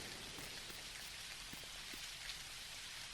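Steady rain falls at night in the game Dinkum, a dense, even hiss of drops with scattered faint patters, continuous throughout and with no voices.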